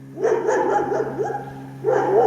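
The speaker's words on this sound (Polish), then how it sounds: "psy szczekają, to już nieźle" Dogs barking in a rural, remote spot: a run of yapping barks that pause briefly, then resume, at moderate distance over a steady low hum.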